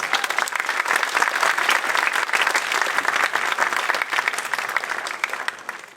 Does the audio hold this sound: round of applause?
yes